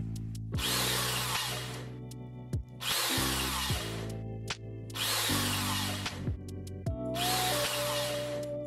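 A power drill bores holes in the lid and bottom of an airtight plastic box in four loud bursts of roughly one and a half seconds each, with clicks and handling noise between them.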